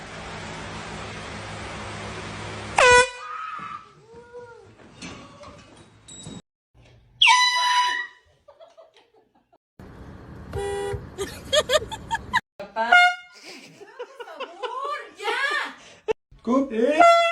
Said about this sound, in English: we have a classic, the air horn pranks